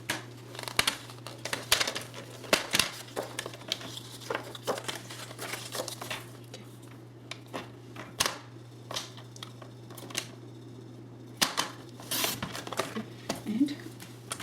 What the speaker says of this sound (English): Sorry, I have to trim this first.